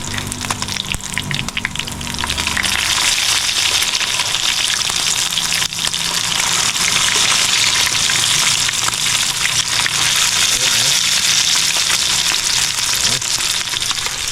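Small anchovies (dilis) frying in oil in a pan, a loud, steady, dense hiss and crackle that fills the scene for its whole length, with a few faint clatters early on.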